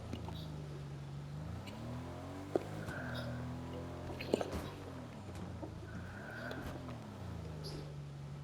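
A car engine in Fortnite drones steadily, its low hum rising and falling in pitch, with a few faint clicks over a constant background.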